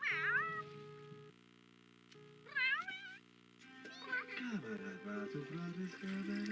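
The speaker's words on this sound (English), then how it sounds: "Just watching the cats do shit." Cats playing indoors, giving several short, rising meows in separate bursts, with water running in the background.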